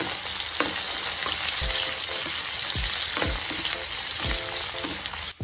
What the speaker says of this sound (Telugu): ఎర్రగా వేయించేసుకోవాలి.